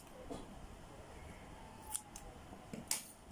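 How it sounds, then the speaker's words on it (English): Scissors snip through folded fabric for a handmade flower bouquet, giving a few quiet, sharp cuts, close and faint, spaced about a second apart. "Then I'll just cut it right here and cut this place as well."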